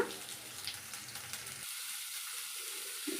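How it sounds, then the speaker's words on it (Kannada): Ingredients for kushka fry in a pan with a brief, steady, bright hiss that changes tone halfway through. "ಇದು ಸ್ವಲ್ಪ ಹೊತ್ತು ಫ್ರೈ ಆಗಲಿ"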